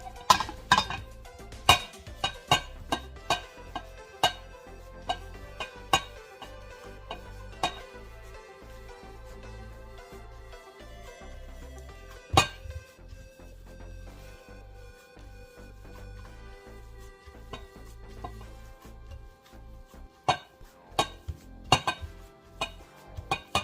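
Meat and boiled rice being mixed by hand in a bowl, a busy run of clinks, knocks and scraping against the dish, steady and close with brighter taps scattered throughout, no talk.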